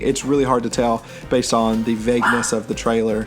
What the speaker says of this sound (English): That's my dog. He's probably going to bark a little bit more.